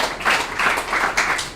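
An audience at a televised French-language school quiz show between Lycée Nakihinga and C.S Saint Augustin claps for students, a moderately loud run of clapping in uneven bursts.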